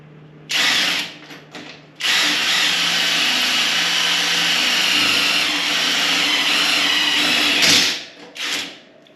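A power drill drilling holes whirs loudly and steadily for several seconds after a brief start-stop burst, then winds down and gives one short final spin.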